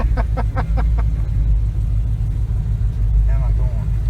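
An LS-swapped Chevy Nova idles with a deep, steady low rumble as it rolls slowly into a garage, while people talk close by over the engine.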